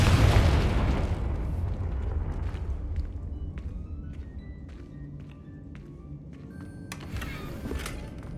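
A Confringo blasting curse in Hogwarts Legacy erupts in a loud, booming explosion right at the start, then decays into a long rumbling tail scattered with faint debris clinks and chimes.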